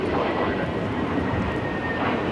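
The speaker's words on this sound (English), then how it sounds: "This is JetBlue, flight 524, taking off to JFK on the A321neo" JetBlue Airbus A321neo, flight 524 to JFK, departs Los Angeles International with a continuous, fairly loud jet engine roar that stays steady across the short stretch.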